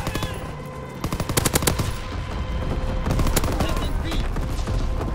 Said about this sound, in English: Oh God, they got a ball turret gun.